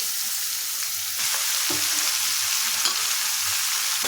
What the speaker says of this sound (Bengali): কেটে রাখা লাউ দিয়ে দিচ্ছি।